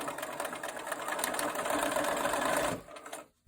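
A sewing machine stitching strips of quilt fabric, a fast steady mechanical whir that runs close and even for about three seconds, then stops abruptly.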